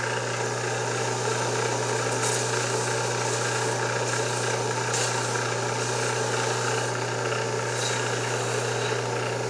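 A belt sander runs with its abrasive sanding belt while shaping a knife handle, producing a constant loud mechanical drone and hum with light scratchy grinding over the top, steady throughout with no talking.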